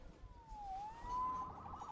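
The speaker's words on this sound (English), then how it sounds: "Saved by the siren." Police siren in the Marvel's Spider-Man Remastered video game, a faint, distant wail that dips and rises in pitch, then holds steady over a quiet background.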